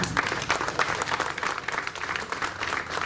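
An audience claps in a continuous, even patter at moderate volume for a few seconds, with no speech over it.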